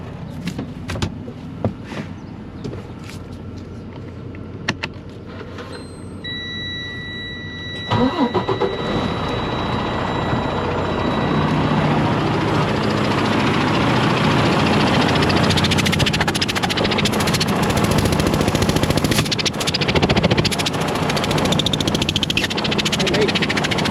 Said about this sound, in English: So go ahead and turn on the truck.